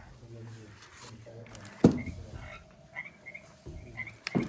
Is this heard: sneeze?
no